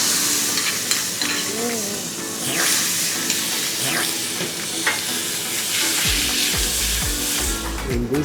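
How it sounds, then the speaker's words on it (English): Kebabs tossed in a pan with tomato relish sauce made with small dry bori chilies, sizzling and frying steadily with stirring and scraping, in a restaurant kitchen of modern Indian cuisine, with brief voices in the background. "tossing the kebabs in the sauce, chef"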